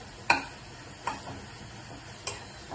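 A spoon scrapes and stirs chukka koora (spinach) pachadi with chili powder in a pan, three distinct clacks against the pan over a soft continuous rustle, close and fairly quiet.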